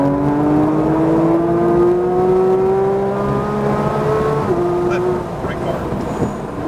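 A Porsche GT3 RS accelerates on a Texas race track, its engine note climbing smoothly and steadily before dipping and changing around the five-second mark.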